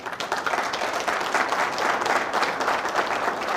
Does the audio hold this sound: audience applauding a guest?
yes